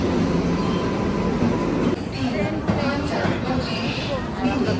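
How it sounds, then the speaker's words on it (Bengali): A Humsafar train pulls into an Indian railway station, a loud close rumble of rolling railcars with rattling and squealing wheels, while people on the platform talk over it. "ট্রেন ঢুকেছে, নতুন ট্রেনে উঠবো"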